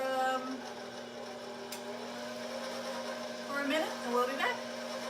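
An electric mixer running on its low setting through carrot cake batter gives a steady whirring hum throughout, with a person speaking over it near the end.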